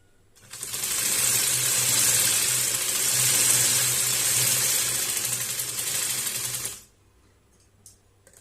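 A sewing machine runs a continuous line of stitching on a dress sleeve, a close, loud, steady whirring clatter lasting about six seconds before stopping abruptly, followed by near quiet.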